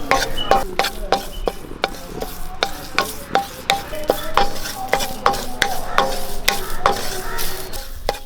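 Leaves sizzle and crackle in a hot pan while a utensil scrapes and stirs in steady, repeated strokes close by.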